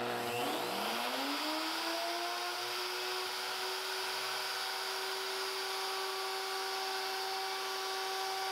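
A power router making a climb cut around a template spins up to a high, steady whine and keeps running continuously, close and unbroken, with no voices.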